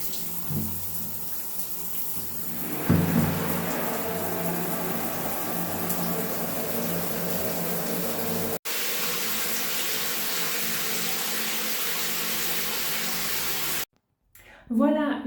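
Steady hot tap water pours and splashes into a bathtub for several seconds, briefly stopping and restarting, with faint voices now and then.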